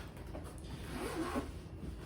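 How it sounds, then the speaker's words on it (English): Double zipper on a semi-rigid borescope storage case being pulled open, a steady faint rasping run lasting about two seconds, close and alone without talk. "it comes with its own storage case with double zippers"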